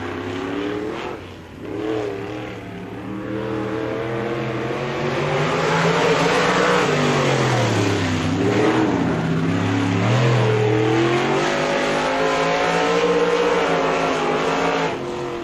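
A dirt-track race car at Spoon River Speedway running a qualifying lap, its loud engine rising and falling in pitch as it accelerates down straights and lifts into turns, continuous and close throughout.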